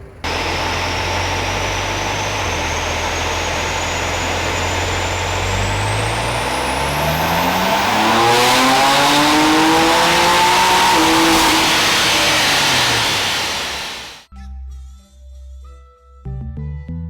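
A BMW E90/E92 M3 V8 with a gutted decat screams on a dyno. Its loud engine note climbs and holds at high revs, then swoops down and cuts off abruptly, leaving near silence with faint clicks.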